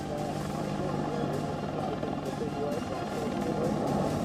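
Combat attack helicopter in flight, a continuous rotor and engine drone with low rhythmic chopping, heard beneath a narrator's voice.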